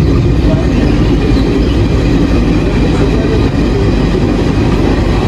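A train at a platform of Patna railway station, heard as a steady, loud rumble of rolling cars and engine noise that runs continuously from start to end, with faint voices mixed in.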